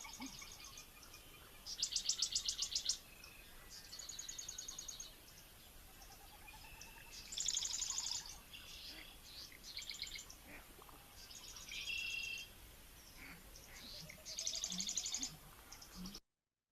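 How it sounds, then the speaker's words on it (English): Marsh wren song played back from a recording: repeated short buzzy, rattling trills in bursts separated by pauses, fairly faint over a hissy background. "for now, just try to pick out the marsh wren"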